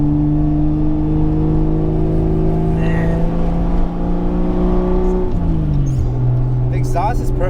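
A 1979 Toyota Cressida engine idles and hums with a steady tonal exhaust note, then drops in pitch as it settles; talking is heard over it.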